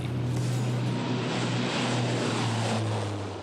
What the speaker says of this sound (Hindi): अर्जुन फॉर्मेशन में एक C-295 और 2 C-130 विमान अपने प्रदर्शन से आपको रोमांचित कर देंगे।